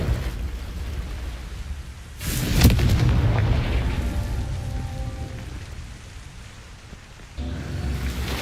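The Confringo fire spell in Hogwarts Legacy goes off with a sudden booming blast, followed by a sustained roaring rush that slowly fades into low rumbling, with another surge of noise near the end.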